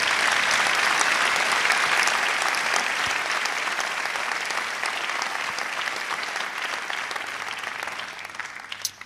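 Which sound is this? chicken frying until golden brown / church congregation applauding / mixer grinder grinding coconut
church congregation applauding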